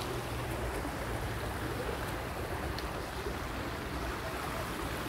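Water runs steadily in a small shallow stream beneath large trees in a park, a continuous close rushing wash with no break and no voices.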